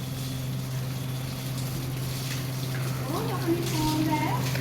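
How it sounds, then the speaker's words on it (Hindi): Water runs steadily while a tractor is being washed outdoors, a constant rushing hiss beneath a steady mechanical hum, with people talking over it. "पिछले 3 घंटे तक लगातार पानी चल रहा। भला ट्रैक्टर में क्या लग रहा है सर, जो 2 घंटे हो गए सर ट्रैक्टर धोते धोते।"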